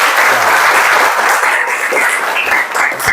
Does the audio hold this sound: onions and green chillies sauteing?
no